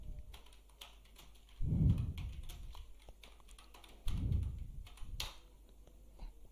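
A computer keyboard clatters under steady typing as a prompt is entered, with quick close key taps and two heavier thumps, likely the space or enter bar, standing out; no one speaks.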